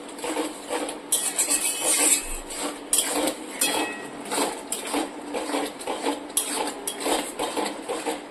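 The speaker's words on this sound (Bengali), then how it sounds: "এবার একটু নেড়ে চেড়ে নেব।" Spices and boiled potatoes and peas for ghugni being stirred in a metal cooking pot, with repeated clattering scrapes and knocks of a utensil against the pot, close and fairly loud, continuous over several seconds.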